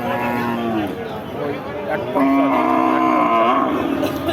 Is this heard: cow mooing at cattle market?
yes